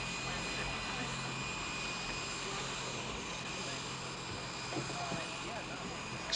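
An airliner's engines drone steadily from inside the cabin during a long flight. The even, unbroken roar carries under quiet talk throughout.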